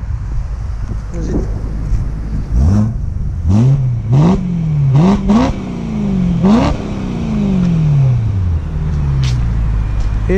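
BMW M3 E92 engine revved repeatedly from behind the car, a series of sharp rising blips with wind noise buffeting the microphone, several quick revs in the middle then a longer falling one.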